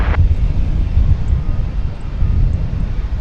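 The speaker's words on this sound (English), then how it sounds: "There's a plane taking off from the east side." A plane taking off at DFW Airport, a steady low engine roar from a distance holding through the whole stretch, with a little wind noise on top.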